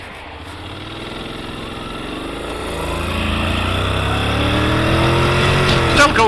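A 2017 Honda X-ADV 750 scooter with a dual-clutch gearbox accelerates in drive mode, its engine note climbing steadily in pitch and loudness from a low drone, close to the rider, with a brief rattle at the end.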